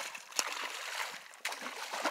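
Asian carp leaping and flopping in a shallow river backwater, giving scattered wet splashes and slaps against a steady watery wash, with one sharp splash early and another stronger burst midway.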